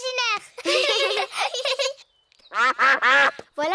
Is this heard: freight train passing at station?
no